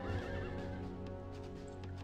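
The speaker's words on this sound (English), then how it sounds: "Run, horses, run!" Horses neighing amid a large battle in a strategy game, a sharp whinny at the start followed by clattering hooves and busy battle noise at moderate volume.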